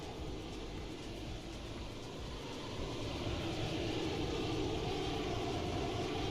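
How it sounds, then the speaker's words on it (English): A Boeing 727-200 auxiliary power unit runs in a flight simulator game, a steady broadband whine and roar with a low rumble that holds constant and grows slightly louder partway through, with no talking. "here's the APU sound right here"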